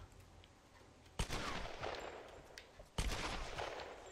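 Two loud gunshot bursts ring out in the Tomb Raider video game, each a sharp blast with a lingering roar after it, about two seconds apart over a quiet background.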